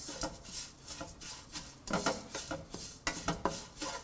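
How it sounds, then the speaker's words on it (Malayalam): Spice powders, Kashmiri chili and turmeric, sautéed in a pan for shrimp theeyal, heard as repeated close scraping and rubbing strokes of a spoon against the pan in an uneven rhythm, with no talking. "നന്നായിട്ട് വഴറ്റുക."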